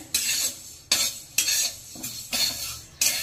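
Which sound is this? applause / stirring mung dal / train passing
stirring mung dal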